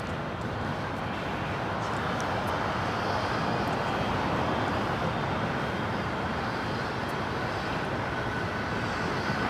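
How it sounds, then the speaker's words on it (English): An American Airlines Boeing 777 departing Los Angeles LAX for JFK gives off a steady, broad jet roar that holds loud and even throughout with no break. "Here comes the American 777 on its way out to JFK."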